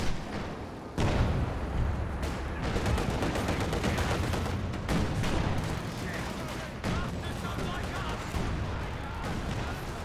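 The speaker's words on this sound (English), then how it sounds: "we're going to see some artillery being dropped in this region" Artillery fire in the Company of Heroes 2 real-time strategy game during a 2v2 match, dense repeated booms and blasts mixed with battlefield noise and overlapping commentary.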